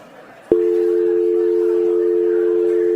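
A man imitates a telephone dial tone with his voice. After a brief quiet start he holds a loud, steady, unbroken hum to the end of the clip.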